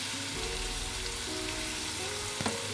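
A whole onion fries with saffron in a pan for chicken pastilla, giving a steady close sizzle and crackle throughout with one small sharp tick near the end and no talk.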